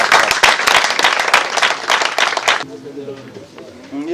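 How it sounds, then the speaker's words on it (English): A congregation at an Igbo youth empowerment gathering claps loudly in a thick burst of hands for a couple of seconds, then it stops and a voice carries on alone. "And somebody clap."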